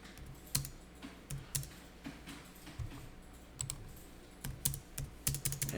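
Irregular bursts of keystrokes on a computer keyboard while a search date is entered for electronic tax invoice records in accounting software, close and clear over quiet room tone, with no talking.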